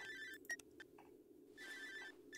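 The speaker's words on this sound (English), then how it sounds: "You know, I could just not answer the phone. Legit, I could just let it ring." A phone rings in the horror game Cry of Fear, a faint electronic ringtone with short repeating tonal bursts, then a longer ring after a brief gap.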